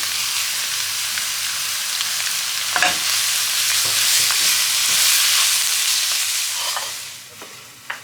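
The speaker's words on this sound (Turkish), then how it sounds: "Şimdi bir tane büyük soğanımı kavuracağım." A large onion and minced meat fry in a pan, giving a continuous loud close sizzle with occasional scraping stir strokes; the sizzle fades toward the end, and no one speaks.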